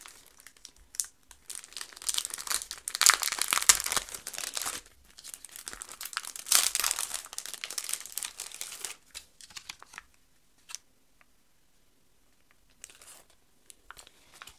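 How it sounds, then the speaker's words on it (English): Plastic packaging crinkles and crunches loudly as a set of puffy planner stickers is pulled out of it, in dense bursts for about nine seconds, then only faint sparse rustles and quiet handling follow. "I'm going to take it out of the plastic."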